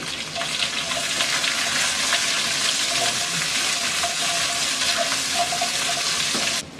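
Onion and vegetables fry in a pan for a Chinese-style dish, giving a loud, continuous sizzle that holds steady throughout with no talking.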